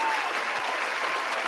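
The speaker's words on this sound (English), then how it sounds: "Give me a round of applause and give Miss Cynthia a round of applause" Dense, steady audience applause from a talk-show crowd, loud and continuous throughout with no voices rising above it.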